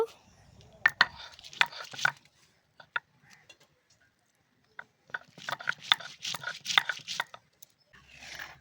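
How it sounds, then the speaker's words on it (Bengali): Intermittent pounding and crushing of whole dried chilies on a hard surface comes in short bursts of sharp knocks, separated by a quiet pause. "কয়েকটা গোটা শুকনো লঙ্কা বেটে নিব"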